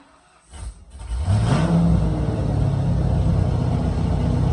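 A 1995 Ford Mustang engine cranks and catches, then roars up and settles into a loud, steady rumbling idle close by.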